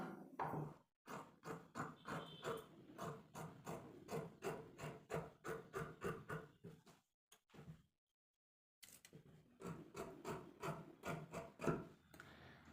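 Scissors cut fabric sleeves for a nighty, giving a quiet, close run of rapid rhythmic snips and rasps that pause briefly midway and then resume.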